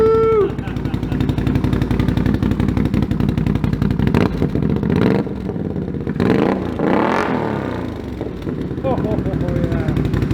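A Can-Am Renegade XMR 1000R ATV fitted with an SLG Sniper exhaust revs hard close by, its loud, throaty engine swelling through several sharp throttle blips over a steady rumbling idle.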